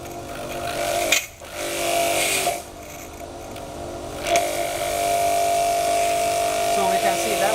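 An INGCO high pressure car-wash machine runs with a steady loud electric buzz and motor whine, dipping briefly a few times before settling into a constant drone, with someone talking over it.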